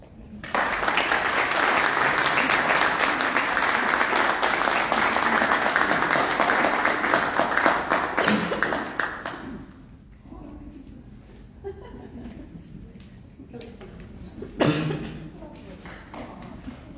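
An audience at an anthology book launch breaks into sustained, loud applause for about nine seconds, then the clapping fades out, leaving a quieter room with scattered murmurs and a brief bump near the end.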